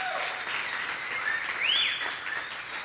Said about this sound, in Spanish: Démosle un aplauso a Paris.